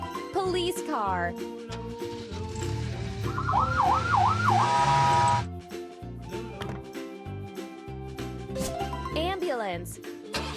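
A cartoon police car siren wails in a rising and falling pattern amid bright electronic sound effects and music, loud and close, with a short spoken announcement nearby.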